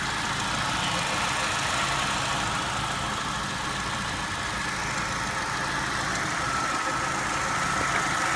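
A 1996 Buick Century engine, suspected of an oil leak around the valve cover, runs steadily at idle, a constant close mechanical drone with no change in pace and no talking.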